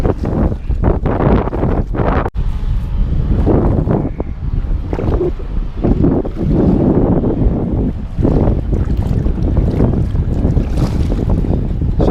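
Strong wind buffets a small boat as it passes beneath a bridge, a constant roaring gust with heavy microphone rumble and water noise, loud and close throughout with a brief dip partway.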